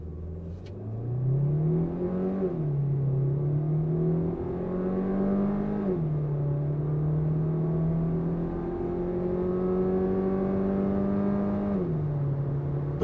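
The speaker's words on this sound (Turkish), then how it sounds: "Fren gaz yaparak kalkış yapacağım." An MG HS car launching in sport mode with a brake-throttle start, its engine rising steadily in pitch through three clear gear changes, heard from inside the cabin, close and continuous with no talk.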